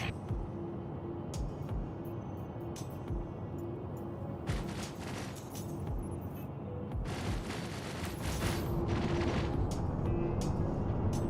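Gunfire in Star Citizen, bursts of sharp shots and booming impacts in irregular clusters over a steady background hum, fairly loud with no talk.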